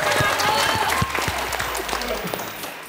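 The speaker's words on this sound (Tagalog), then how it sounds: "Palakpak." A studio audience claps and applauds steadily, a dense, fairly loud patter of many hands at a televised contest as a contestant is introduced, fading slightly toward the end with some crowd noise mixed in.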